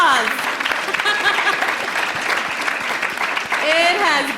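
A round of applause from the audience at the LSE Africa Summit, a dense steady clapping throughout, with voices talking over it.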